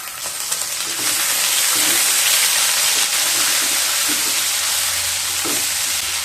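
Black cumin, turmeric, chili powder, ginger paste and a green chili frying in oil in a pan on low heat, a loud, dense, continuous hiss and sizzle with a few faint stirring knocks, close up and without voices.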